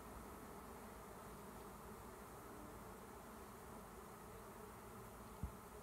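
Steady, dense buzzing of many honeybees close by around a hive box, a continuous drone with no talking, ending with a brief soft knock as the lid goes on.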